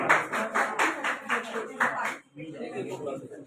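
Audience applause at a district-level event rises in several bursts of clapping over roughly two seconds, then thins into scattered claps and crowd murmur.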